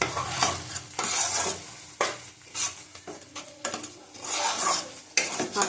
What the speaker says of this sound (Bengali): দেখো টক দই দিয়ে দেবো, 50 গ্রামের মতো টক দই আছে।